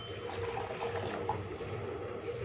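Dissolved health drink mix poured into a pot on the stove, a steady close liquid splash and trickle running continuously without speech.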